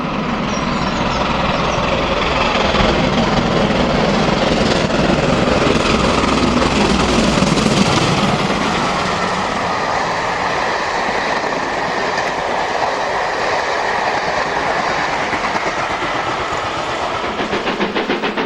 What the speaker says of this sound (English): (73096) approaches Weybridge at speed in May 2004 with a Cathedrals Express from Victoria to Bristol.